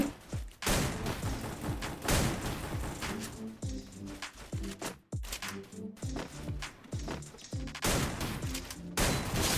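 Guns fire in a Free Fire battle royale match in loud, rapid bursts and single cracking shots, with short pauses between volleys across the whole stretch.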